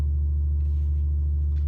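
A low, steady D sine tone from a tone generator hums continuously through distorting speakers, deep and sustained with a slightly buzzy, distorted edge, no voices present.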